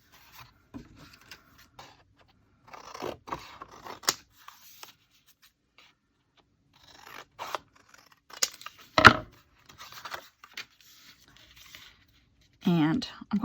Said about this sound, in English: I just want to cut a piece of white paper